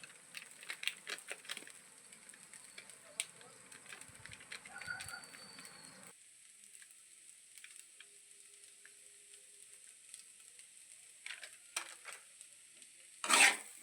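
Egg fry with garam masala being stirred in a pan, soft sizzling with scattered light scrapes for several seconds, then near quiet with a few faint taps and a louder clatter at the end.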